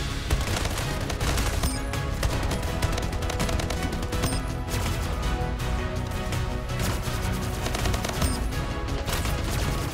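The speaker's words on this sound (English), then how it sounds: "Oh, you're shooting me through my portal" Continuous heavy video game gunfire crackles for the whole stretch, dense overlapping shots and bursts from an opponent firing through a portal in a small 1v1 map, loud and unbroken.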